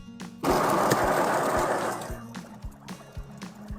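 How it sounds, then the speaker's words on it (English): A COWSAR espresso machine's built-in grinder grinds coffee beans at a medium setting, a loud, steady whirring hum for about two seconds that then drops back to quieter mechanical knocks and clicks. "After that, I press the grind button."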